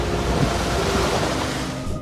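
Strong ocean waves surge and crash among rocks, a loud continuous wash of surf mixed with wind buffeting the microphone, with no voices.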